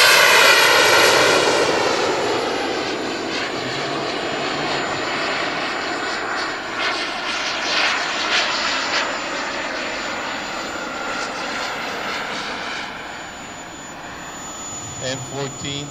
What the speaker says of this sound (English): F-14 on final.